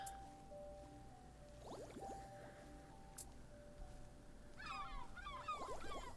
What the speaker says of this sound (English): There go more seagulls.